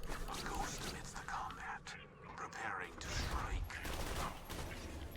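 Stomper rifle fire in Borderlands 2 gameplay comes as loud, rapid bursts of gunfire with short gaps between volleys, mixed with game effects throughout.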